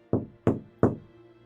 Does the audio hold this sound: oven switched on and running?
no